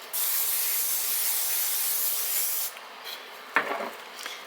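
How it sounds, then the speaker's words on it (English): Makeup finishing spray misted onto a face in one long continuous hiss lasting over two seconds, close and fairly loud, followed by a few soft rustles. "The finishing spray will basically act as the glue to keep the makeup on my"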